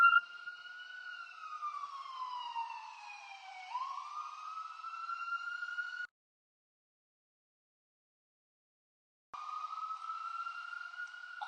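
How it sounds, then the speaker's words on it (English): An ambulance siren wails in rising and falling sweeps, heard faintly at a distance. It cuts out abruptly into silence for a few seconds, then returns briefly. "I didn't want the ambulance to be too blaring while I'm trying to make my video."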